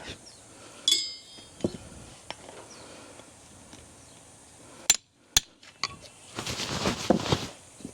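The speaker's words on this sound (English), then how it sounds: "Just unclenching the clenches so that it'll pull off easier." A farrier unclenching horseshoe nails on a horse's hoof, sparse sharp metallic hammer taps and clinks spaced irregularly, close, with low shuffling and a louder rustling stretch near the end, no talking.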